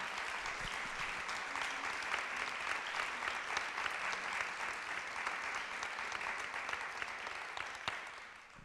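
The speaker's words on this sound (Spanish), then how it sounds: "pido un aplauso primero para nuestras invitadas" An audience applauds invited women guests at a talk on female political prisoners under Franco, sustained even clapping heard at a distance and fairly quiet, tapering off slightly at the end.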